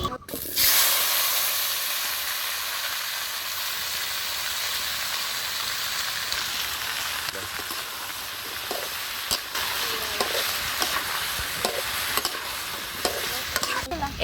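Tomatoes go into hot oil with five-spice (panch phoron) and sizzle in a steady hiss that fades gradually, with light stirring clicks and scrapes in the later part.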